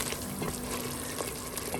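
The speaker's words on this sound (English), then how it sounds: "I'll have to allow it to at least fry for some minutes, maybe 2 to 3 minutes" Food frying in a pan, likely part of a lentil dish, with a dense, close sizzle and spattering crackle that runs steadily without pause and no talking.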